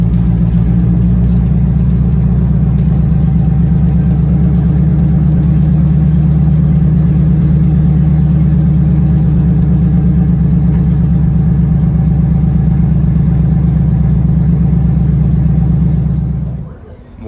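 A Ford F-150 pickup engine drones loud and steady up close as the truck tows an enclosed track-car trailer up a slope, a constant low rumble that holds for about sixteen seconds before cutting off abruptly.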